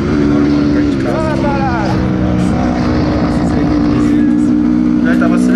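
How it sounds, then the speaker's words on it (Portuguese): A Honda CRF 250 R motocross motorcycle engine roars loudly and unevenly while misfiring, people talking over it, the revs sputtering and catching. "Nesse vídeo aqui você já pode ouvir que a moto tá dando umas falhadas."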